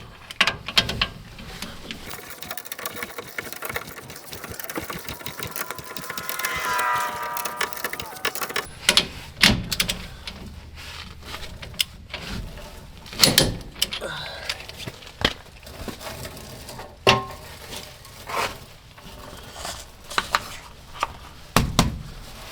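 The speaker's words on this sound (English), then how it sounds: "we're going to torque these down to 80 pounds" A torque wrench tightens the shackle hanger bolts on a Toyota Tacoma (2005–2023) during a Rago Fabrication hanger install, giving intermittent ratcheting clicks and metallic clatter that come in scattered bursts over quiet workshop background.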